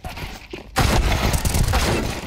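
P250 pistol shots in a Counter-Strike match, a sudden burst of sharp, loud gunfire after a quieter start, crowded together with game noise and layered effects.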